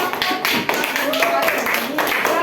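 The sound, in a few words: class clapping hands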